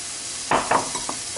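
Leeks dropped into a little oil in a frying pan over medium-high heat, giving a few close bursts of sizzling and scraping over a steady hiss, with no one speaking.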